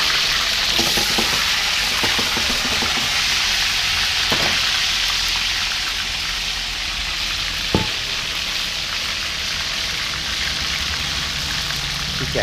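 Curry paste fries hard in a wok for spicy catfish, a dense continuous roaring sizzle with occasional sharp clicks of a utensil against the metal, close and steady throughout.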